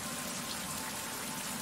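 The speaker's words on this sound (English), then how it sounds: "Now the rain's stopping." Rain falls steadily in the survival game Survival: Fountain of Youth, a soft, even hiss of drops that fills the brief moment without pause.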